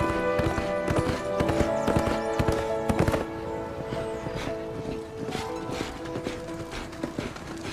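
Hooves clatter in a quick, heavy rhythm as training horses gallop past nearby, with a big breath each stride, then the sound recedes into softer thuds.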